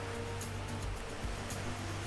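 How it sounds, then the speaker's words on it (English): Ocean waves crash steadily against the rocks at Cape Spear, a constant roaring surf wash with surging swells, heard alone and fairly distant without any voices. "And those waves have a tremendous amount of power too"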